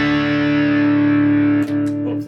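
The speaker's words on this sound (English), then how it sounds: "So it's kind of more of a retro sounding distortion when you add that." Electric guitar played through a Boss Katana-50 Mk II modeling amp with the boost turned all the way up, giving a retro distortion; a sustained, loud chord rings steadily, then is cut by a couple of quick string hits near the end.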